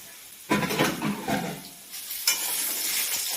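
Potatoes and pointed gourd fry over a low flame, giving a steady close sizzle with stirring scrapes at intervals and no voices.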